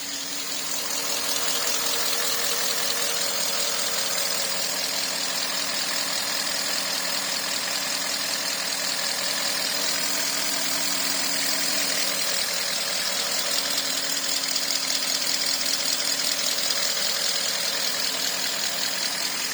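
A Porsche Cayenne Turbo with the 4.8-litre V8 idles evenly and smoothly after its hydraulic lifters were replaced, a steady, fairly quiet hum with no talking.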